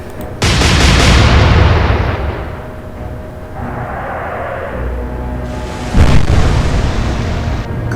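Naval guns firing in the game Atlantic Fleet, with Royal Navy ships fighting the Kriegsmarine: a loud, heavy blast that rumbles and fades, followed by a second powerful boom a few seconds later.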